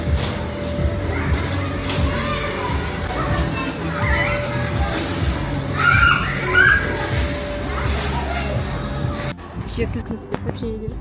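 Children shouting and playing outdoors, a lively babble of young voices and splashing water mixed with passing traffic, fairly loud and continuous before cutting off near the end.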